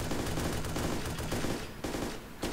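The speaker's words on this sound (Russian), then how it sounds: "Там снайпер стреляет в меня" Rapid video game gunfire crackles continuously in dense bursts, with sniper shots mixed into a loud, busy firefight and no talking.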